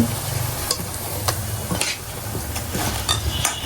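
Onions frying in a small amount of oil in a pan, a steady close sizzle with occasional stirring scrapes and clicks running throughout.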